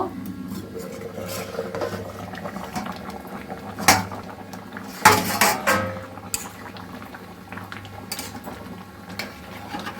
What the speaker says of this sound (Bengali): এবার ঢাকনাটা আমি খুলবো